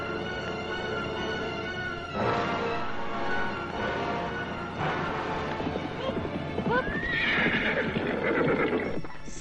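A horse whinnies loudly, with repeated clip-clop of hooves nearby, set against steady background ambience and rustling, with a high rising neigh near the end.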